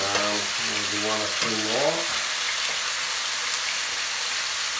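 Chicken pieces for chicken tikka masala frying in hot oil in an uncrowded pan, giving a steady close sizzle throughout; a voice talks briefly over it at the start.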